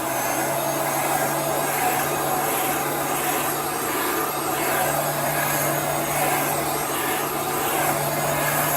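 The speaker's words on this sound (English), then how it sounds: "So you're just going to continually move the heat gun." An industrial Uline heat gun blows steadily while drying chalk paste on a Marrakesh chalk box, a loud continuous airy roar with a low hum, unbroken and without talk.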